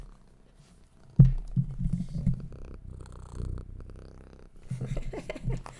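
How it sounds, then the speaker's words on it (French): A cat purrs close by in a steady low rumble, with a sudden thump and rustle partway through and a quiet stretch before the purring picks up again. "vous entendez pas son ronronnement"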